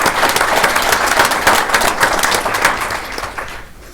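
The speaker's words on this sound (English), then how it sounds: "Let's give them a round of applause" A school event audience gives a round of applause for a district autism program, dense crowd clapping that holds strong and then thins out toward the end.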